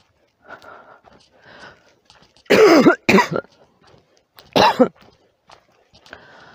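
Several harsh, loud coughs come in short bursts, two close together then another, amid quieter throat noises and faint murmuring.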